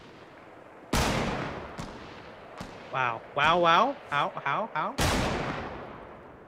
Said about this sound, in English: I'm getting shot from the south.